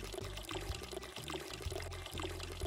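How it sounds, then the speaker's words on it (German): Plants are watered in the video game Weed Shop 2: a continuous pouring splash of water runs steadily and close up, with a repeating rhythmic pattern underneath. "So, und dann gießen wir das auch nochmal."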